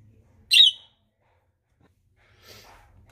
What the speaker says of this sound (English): She's chirping for you.